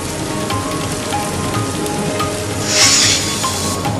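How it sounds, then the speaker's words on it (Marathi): Heavy rain pours steadily in Nashik, a dense continuous hiss of drops on surfaces that swells briefly louder toward the end, with no voices. "नाशिकमध्ये जोरदार पावसानं हजेरी लावली"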